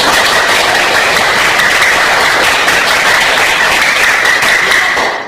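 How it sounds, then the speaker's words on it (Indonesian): Vigorous, dense applause fills a classroom after a student's answer during a teacher-training lesson, loud and continuous throughout with no speech. "tepuk tangan untuk tadi"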